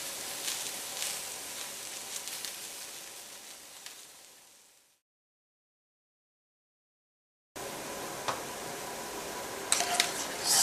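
Mushrooms cooking in an oiled skillet give a close, steady sizzle that fades out, drops to silence for a few seconds, then resumes with a few sharper crackles toward the end.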